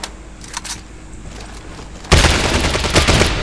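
Rapid gunfire from bots in the survival shooter Lost Light, a dense, loud burst of shots that erupts suddenly after a quieter stretch and keeps rattling to the end.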